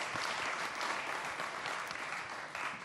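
An audience at the SPADA screen industry conference in New Zealand applauds, a dense, even burst of clapping from many hands that holds steady throughout with no talk over it.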